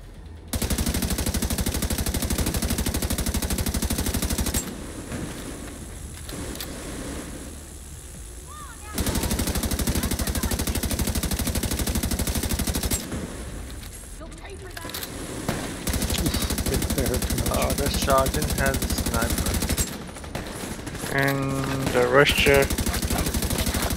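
Sustained gunfire in the video game The Division 2 while a buffed sergeant enemy is shot at, with long, dense, loud automatic bursts broken by brief pauses and a few voices talking under the shooting.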